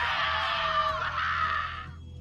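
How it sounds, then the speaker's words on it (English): A shrill scream rings out in the video game Borderlands 3, one sustained loud cry lasting about two seconds and then cutting off, alone without talk. "Do you hear screaming, or am I having another one of my episodes?"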